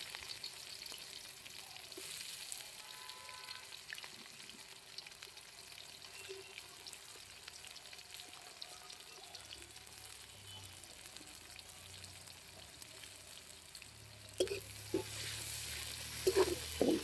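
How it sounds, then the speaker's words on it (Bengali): Onions fry in a pan with a faint, steady sizzle and occasional stirring clinks, quiet and continuous, with a low hum and a few louder knocks toward the end. "পেঁয়াজগুলোকে ভেজে নেব"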